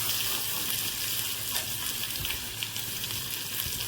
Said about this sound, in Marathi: आता गवार ही व्यवस्थित परतून घ्यायची आहे